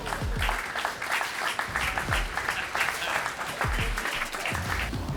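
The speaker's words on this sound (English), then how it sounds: "put your hands together as loud as you can" A crowd applauds loudly and steadily, dense clapping filling the whole stretch with no talking over it.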